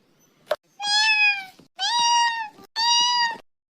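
A domestic cat meows three times in clear, drawn-out calls, loud and close, with short gaps between them in an otherwise quiet home.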